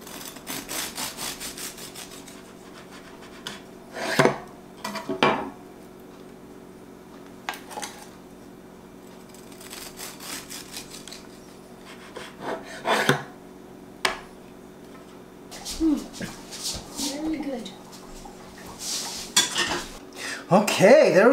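Eggnog sour cream coffee cake being sliced: intermittent knife scrapes and sawing strokes against a plate or pan, with clinks of utensils over a faint steady hum, close by.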